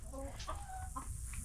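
Chickens cluck inside a chicken house holding 100 to 200 birds, with a few short clucks and calls rising over a constant low hum of fans or airflow.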